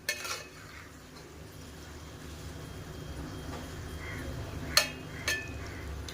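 A utensil scrapes and clinks faintly against a pan while paneer is stirred, quiet steady scraping with a couple of sharper metallic knocks near the end over a low background hum.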